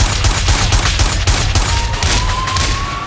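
Rapid gunfire in the game GTA San Andreas, a dense fusillade of repeated loud shots in an irregular rhythm with a rising siren tone underneath.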